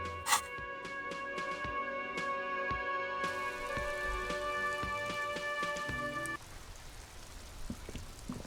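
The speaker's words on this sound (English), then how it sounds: "It's raining again." Rain falling in the video game Disco Elysium, a steady patter of drops with scattered sharper ticks over a sustained game tone that cuts out partway, leaving the rain alone and softer.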